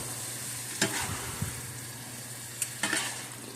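Ground meat fries in a pan for a spaghetti sauce, a steady close sizzle broken by a few scraping stirs of a utensil, with no talking.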